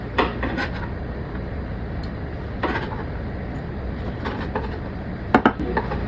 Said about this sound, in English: just chopping onions. Rough chop.